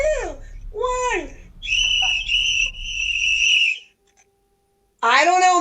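At a school assembly, a whistle is blown to end a timed game: one long, shrill blast amid excited children's shouts and cheers, which drop away briefly before the voices return.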